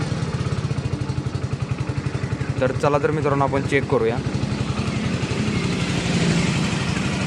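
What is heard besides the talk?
Hero Splendor Plus BS6 motorcycle engine running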